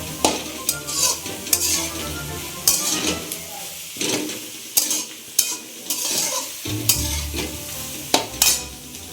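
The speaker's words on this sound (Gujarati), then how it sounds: "ડુંગળી કંટોલા વઘારી રહ્યા છે." Onions and spiny gourd sizzle and crackle in hot oil while a utensil stirs and scrapes the pan in repeated bursts, close and fairly loud.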